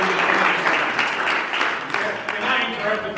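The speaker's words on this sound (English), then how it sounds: "so we can really clap in for our forefathers of the Psls" Crowd at a talent competition final claps enthusiastically in a dense burst of applause with some cheering voices mixed in, strong and continuous throughout.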